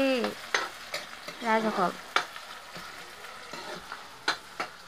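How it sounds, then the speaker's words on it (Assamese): Jolokia chillies fry in a pan with a soft, steady sizzle, punctuated by sharp spatula clanks and scraping stirs, while a voice briefly speaks over it. "জলকীয়া ভাজি বনি আছে দেই"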